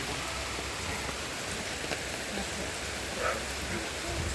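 Steady rain falling, a continuous hiss of drops on surfaces, even and moderately loud throughout.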